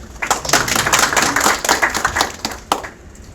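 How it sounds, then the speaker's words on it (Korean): Applause greets a speaker at a Korean Bar Association and Korean Journalists Association debate on punitive damages for the press: a loud, close burst of clapping that swells and then thins out toward the end, with no talk. "박수로 맞아주시기 바랍니다."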